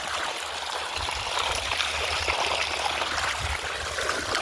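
Water runs steadily through a farm plot to irrigate a cotton field, making a continuous rushing, trickling stream that stays even and fairly close throughout.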